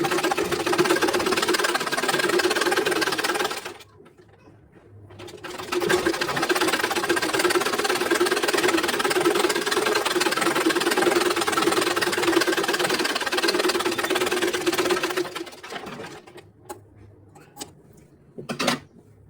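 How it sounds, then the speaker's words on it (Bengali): An electric sewing machine stitches extra fabric onto a blouse piece, running in a steady fast whirring drone for several seconds, pausing briefly, then running again at length before stopping with a few short bursts. "এক্সট্রা কাপড়টা যে আছে ওটার সাথে আরো একটা সেলাই দিয়ে দিচ্ছি, যাতে সেলাইটা খুব বেশি সুন্দর হয়।"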